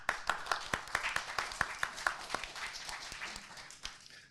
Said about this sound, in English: A big applause to Akhtar.